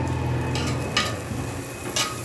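Butter melts in a pan for grilled stuffed squid, giving a soft, steady sizzle with a couple of brief scraping stirs, close and fairly quiet.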